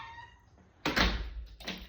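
A squeaky, unoiled door swings, sounding as a sudden loud creaking thunk followed by a shorter second creak, close and with no talking.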